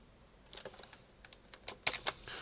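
Quick keystrokes on a computer keyboard while entering a search term in the Unreal Engine 5 editor, an irregular run of close, crisp clicks that bunch into a louder burst near the end, with no voices.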